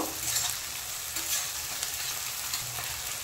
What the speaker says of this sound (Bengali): পেঁয়াজটা হালকা একটু নেড়েছি